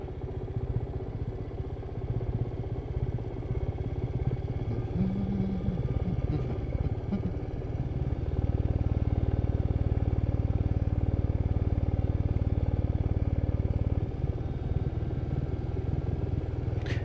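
A Royal Enfield Meteor 350 motorcycle rolls off-road in first gear on a steep downhill track, its engine a steady low thrum with clattering from the rough ground, becoming louder and denser partway through.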